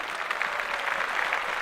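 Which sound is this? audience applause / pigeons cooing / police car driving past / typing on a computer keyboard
audience applause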